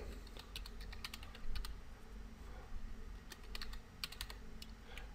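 Arduino code being typed on a computer keyboard, with steady clusters of quick, close key clicks and short pauses between words, no talking.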